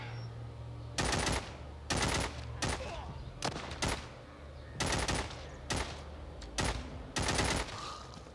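AK-47 fire in The Walking Zombie 2 video game, about a dozen short loud bursts in an uneven rhythm with gaps between them, heard over a low game background.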